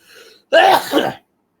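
A single sharp sneeze, loud and close, bursting out in two quick pulses after a brief faint intake of breath, then silence.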